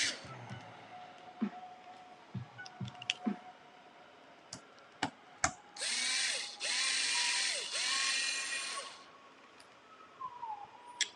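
Hand tools loosening a plate on an RC car being built: scattered sharp clicks and ratcheting ticks, then several bursts of whirring driver noise, fairly quiet and close with no talking.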